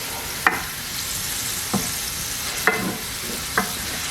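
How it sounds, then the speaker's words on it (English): Scallions and pancetta sizzle in a pan for an escarole and beans dish, a steady close frying hiss broken by a few sharp pops and utensil taps. "Next, we're gonna bring in our scallions and our pancetta."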